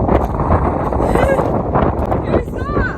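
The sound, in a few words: wind blowing against the microphone outdoors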